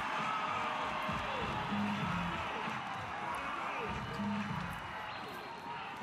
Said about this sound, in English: it's a massive block from Evandro, and the crowd go wild.